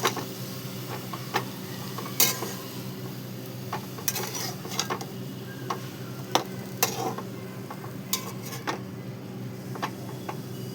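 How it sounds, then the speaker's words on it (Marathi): Dal and dill greens stirred in a pan, a spoon scraping and clinking against the metal in irregular taps and clacks over a low background hum, with no talking. "आणि सगळं टाकल्याच्या नंतर आपण याला पुन्हा मिक्स करून घेऊ."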